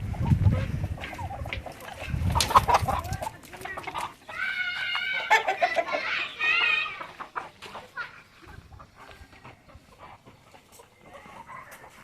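Bhimavaram breed hens cluck in short, uneven bursts, fairly close, with bleating and other farmyard animal calls mixed in.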